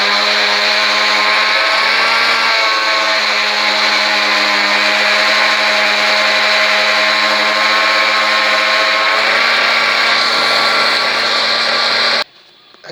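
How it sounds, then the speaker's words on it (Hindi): An electric grinder blends coriander chutney with green chillies, a loud, steady motor whine and whir running nonstop at close range for about twelve seconds before cutting off abruptly. "ये सारी चीज़ें मैंने ग्राइंडर में डाल दी। अब इससे थोड़ी सी देर आप चलाएं"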